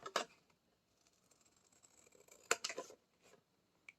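Scissors snip through cardboard box flaps, with a couple of quick, crisp cuts near the start and another cluster a few seconds later, close and fairly faint in a quiet room.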